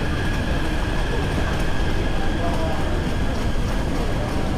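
Passenger train ride in Taipei, steady loud rumbling roar of the carriage in motion heard from inside, continuous with no breaks, people chatting under the noise.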